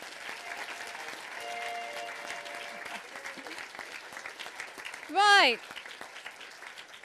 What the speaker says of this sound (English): Can I just ask a round of applause for the teachers who've made this happen?